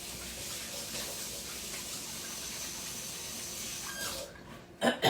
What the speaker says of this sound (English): And rinse my hand off.